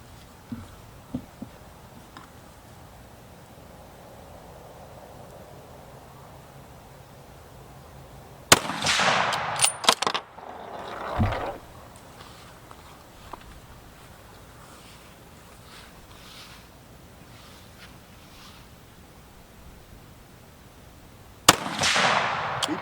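Two sharp, loud rifle shots from a Browning X-Bolt 6.8 Western fired outdoors, each a hard crack followed by a rolling echo, spaced far apart over steady wind noise.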